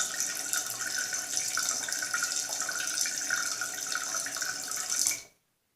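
A toilet tank refills with water after being partly drained, a steady, even rush of flowing water that runs for about five seconds and then cuts off abruptly into silence.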